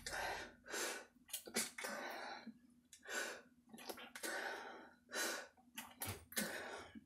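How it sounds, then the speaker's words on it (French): A close series of breathy, explosive bursts like repeated sneezes and sharp inhalations, irregular in spacing, with no speech. "Je sens que je vais éternuer."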